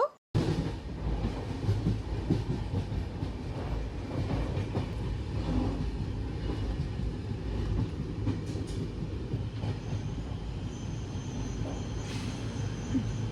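A train rumbling steadily along the tracks on an Indian rail journey from Srikakulam toward Bengal, heard from inside, with a constant low roar and faint rhythmic clacking throughout.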